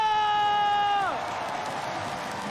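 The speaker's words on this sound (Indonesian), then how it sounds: "mana tepuk tangannya?" At an esports playoff event, a crowd cheers and applauds in a broad, steady roar, first overlaid by a sustained sliding synth tone that drops away about a second in, leaving the crowd noise alone.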